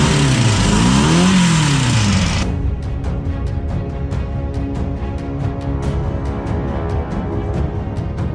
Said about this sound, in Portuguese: E é um carro de corrida andando na rua